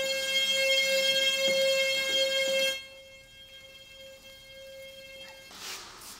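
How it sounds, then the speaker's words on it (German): A sewage pump opening sets off a steady electronic alarm tone that sounds loudly for a few seconds, drops away, then continues faintly before a brief rush of noise at the end. "Das Öffnen der Pumpe löst ein Alarmsignal aus."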